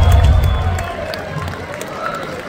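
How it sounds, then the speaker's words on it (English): Concert crowd at a rock anniversary show at the House of Blues Las Vegas, applauding and cheering loudly at first, then fading over a couple of seconds. "Give her a round of applause."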